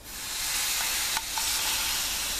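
Ground beef patties sizzle in a preheated hot pan, giving a steady close hiss with a couple of brief pops and clicks partway through; no one speaks.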